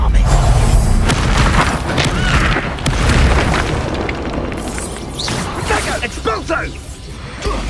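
An Expulso spell explosion in the Hogwarts Legacy video game: a heavy, loud boom with whooshing and crashing debris, rolling continuously with sharper pops toward the end while a voice shouts spell names.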